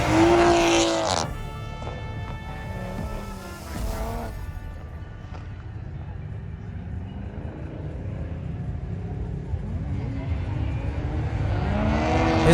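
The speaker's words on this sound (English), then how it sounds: "His car sounded so good" At a car meet, a car accelerates hard down the track with loud, rising engine revs near the start and end and a rumbling drive-by in between, with people talking at times.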